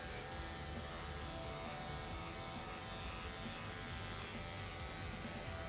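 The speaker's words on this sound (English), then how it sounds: "I can run the clipper underneath their chin, not lifting her up" Electric clippers groom the underside of an English Angora rabbit, producing a close, continuous buzzing drone that holds at an even level for the whole stretch, with no speech.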